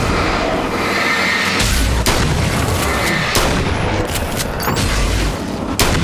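Grenade blasts and booming detonations in the video game Alan Wake's American Nightmare, several heavy loud thuds in quick succession over a dense, continuous rumble of combat noise.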